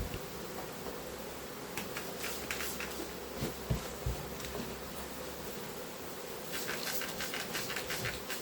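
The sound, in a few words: honeybees buzzing during hive transfer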